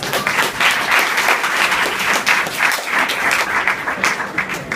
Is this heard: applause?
yes